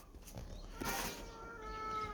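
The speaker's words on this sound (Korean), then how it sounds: "길고양이" A stray cat gives one drawn-out, wavering meow, heard close and fairly soft over a faint background hum, with no talking.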